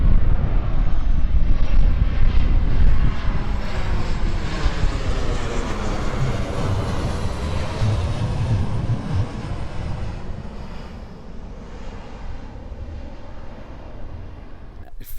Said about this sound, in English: There's a plane coming over.